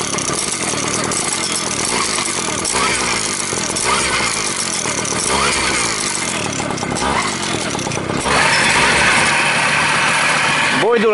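A Babetta moped engine idles at an offroad event in Dunaföldvár, Hungary, a continuous buzzy putter that grows slightly louder near the end, with people talking over it.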